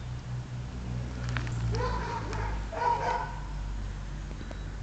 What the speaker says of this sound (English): My dog barking at cars